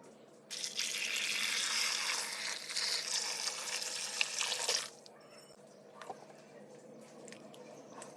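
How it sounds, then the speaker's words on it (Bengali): Tomatoes are washed in water while making ketchup, with a steady splashing, pouring rush of water for several seconds, then quieter drips and wet handling sounds close by. "টমেটোর আচার বা কেচাপ তৈরির জন্য প্রথমে টমেটোগুলো 2 থেকে 3 বার জল পাল্টে পাল্টে ভালোভাবে ধুয়ে নেব"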